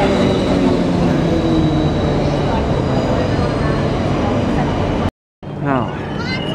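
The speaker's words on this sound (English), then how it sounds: "we're off on a train up from the station to home" An Ipswich line passenger train rolls along the rails with a steady, loud rumble from on board, cutting out abruptly near the end before resuming with voices in the carriage.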